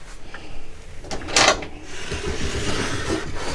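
An under-bed drawer in a fifth-wheel trailer slides with a short rumbling scrape and a bump, close by, with no one speaking.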